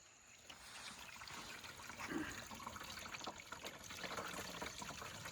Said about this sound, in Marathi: थोडं पाणी भरू आपण